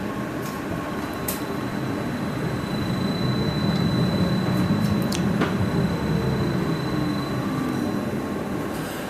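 A streetcar rolls through Milwaukee's Historic Third Ward with a steady, close rumble, joined now and then by faint metallic clicks and a thin wheel squeal.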